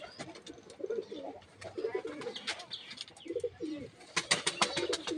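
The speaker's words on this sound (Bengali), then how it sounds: "দেখুন পায়রা সব ঘুরে বেড়াচ্ছে এর মধ্যে এই যে পায়রার ঘর প্রত্যেকটা ঘরে পায়রা আছে" Pigeons coo repeatedly in a pigeon house, low soft burbling calls near and clear, mixed with sharp chirps and tweets and a little wing flapping, no talk over them.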